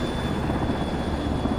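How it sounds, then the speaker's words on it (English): A helicopter in a video game roars close and loud, its rotor and engine drone holding steady throughout with no voices over it. "Whoa, look at that chopper, man, with the lights on."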